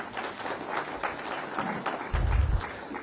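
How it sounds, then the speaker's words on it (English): A conference audience claps in honour of Amitabh Kant, former CEO of Niti Aayog, with dense applause at moderate distance that swells briefly toward the end. "let's give him a very warm round of applause for that"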